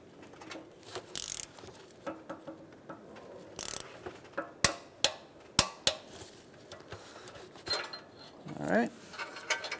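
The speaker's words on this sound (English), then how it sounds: "we can lower down our torque wrench with extensions. And we're going to torque this down to 33 foot-pounds." Torque wrench on extensions tightening the upstream O2 sensor of a 2007-2013 Acura MDX, with a run of sharp metallic clicks and ratchet ticks among tool clatter, close and moderately loud, with no voices.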